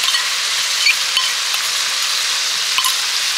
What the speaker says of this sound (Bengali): আবার একটু কিছুক্ষণ নেড়ে চেড়ে কষাবো